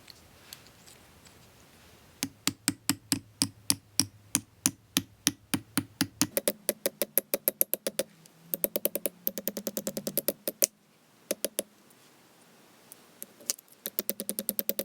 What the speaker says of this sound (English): Slowly hammering up and down the length of this to keep that curl going.